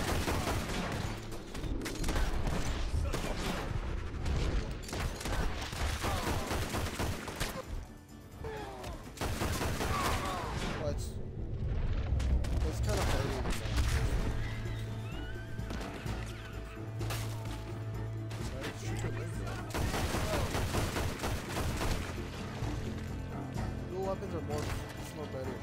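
Gunfire in Red Dead Redemption 2, repeated sharp shots and impacts scattered through a busy game scene, moderately loud under ongoing commentary from a player.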